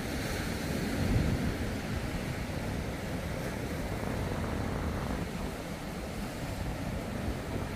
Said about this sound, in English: A lot of white foam to deal with. Over some big sets washing into the gully where Leon is lying down up now.